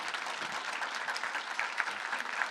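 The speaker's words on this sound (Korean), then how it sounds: "다시 한번 큰 박수 부탁드리겠습니다" An audience at a public policy forum in Daegu breaks into dense, sustained applause, many hands clapping together evenly and fairly loud for a couple of seconds.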